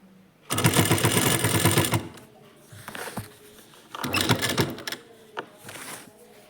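Sewing machine stitching the side seams of a churidar, two long bursts of rapid mechanical needle chatter separated by pauses and shorter runs, close and loud with no talking.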